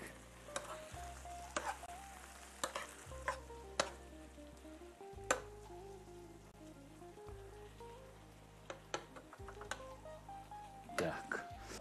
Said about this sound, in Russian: Пока наш рис и остальные ингредиенты жарятся